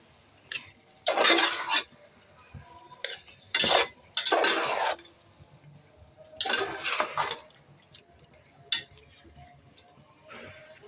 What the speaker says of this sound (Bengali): এখন এগুলোকে কড়াইতে দিয়ে দিব। দিয়ে খুব ভালোভাবে নাড়তে হবে।